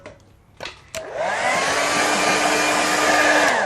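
After a couple of sharp knocks, a hair dryer switches on and roars steadily up close while drying a watercolour painting.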